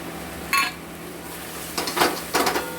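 Potato and taro chunks are sautéed in a pan with cumin, coriander, Kashmiri chilli and turmeric powders. A metal spoon knocks and clinks against the pan in a few short bursts over a faint sizzle, close by, with no talking.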